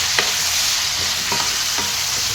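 Chicken pieces with salt and turmeric fry in a pan, giving a steady loud sizzle broken by a few scraping stirs of a spoon.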